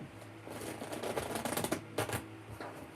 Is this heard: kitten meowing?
no